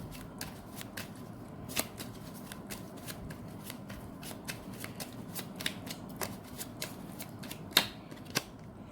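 Tarot cards shuffled by hand in a quiet room, a steady run of soft riffling clicks and slaps over nearly nine seconds with a few sharper snaps near the end, no voices.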